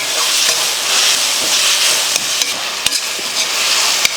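Onion and tomato sauté in a pan with a steady, close sizzle and hiss, broken by a few sharp clicks and scrapes of stirring, and no voices.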